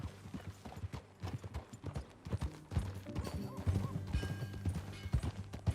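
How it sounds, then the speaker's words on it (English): Horse hooves clip-clop in a steady, close walking rhythm in Red Dead Redemption 2, with faint creaks of tack layered over the beat. "That a new horse?"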